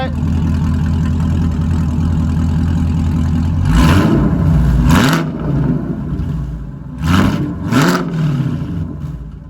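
A Chevrolet Camaro 2SS fitted with an MBRP exhaust idles with a deep, loud rumble, then is revved in two pairs of sharp blips that rise and fall quickly, close to the listener.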